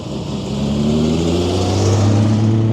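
Ferrari short-wheelbase sports car pulling away at a Ferrari show, its engine revving loudly and climbing steadily in pitch as it accelerates, close by and with no talk over it.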